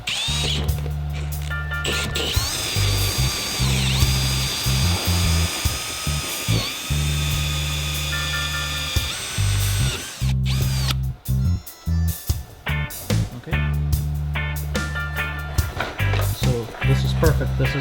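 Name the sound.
hole saw drilling into a cooler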